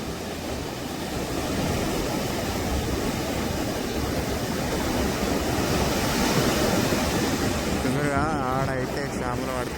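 Surf rolls steadily onto Uppada Beach as a broad, continuous wash of waves, close and fairly loud throughout, with a brief voice near the end.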